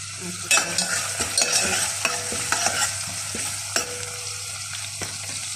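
Onions sizzle steadily in a hot pan while a utensil scrapes and stirs, with sharp clicks and taps throughout.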